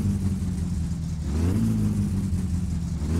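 A car engine in the video game My Summer Car idles low, then revs up and holds a higher pitch, a steady mechanical drone with no voices.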